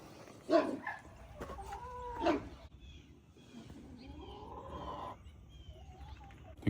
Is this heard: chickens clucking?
yes